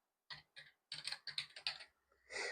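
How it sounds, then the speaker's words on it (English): Typing on a computer keyboard while working on a Windows 1.0 setup: a short, close run of crisp key clicks in uneven bursts, ending with a softer scuffing rustle, with no talk over it. "I'm just going to type it in this way."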